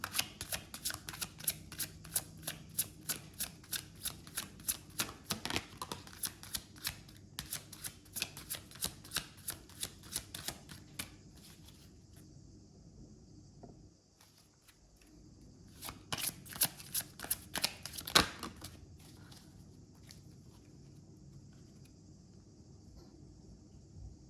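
Oracle cards being shuffled by hand, a long run of rapid crisp riffling flutters close to the microphone, pausing briefly midway before another shorter burst of shuffling.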